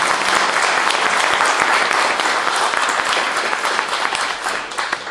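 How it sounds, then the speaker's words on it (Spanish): Audience at a library recital in Ciudad Mendoza breaks into steady, dense applause, loud and sustained throughout with no voices over it. "pido un aplauso, por favor"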